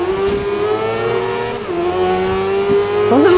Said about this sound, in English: Sounds a little bit like a motorbike, actually, which I reckon this Nissan's got the engine from.